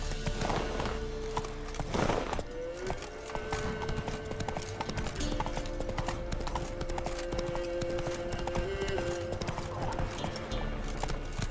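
Roach, a horse in The Witcher III video game, gallops steadily with a quick, rhythmic clip-clop of hooves close by, joined by soft ambient tones and a brief snort.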